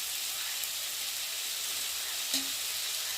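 Fried prawns stirred in a hot pan with turmeric: a steady, close sizzle runs throughout, broken by a single light utensil tap near the end, with no voices.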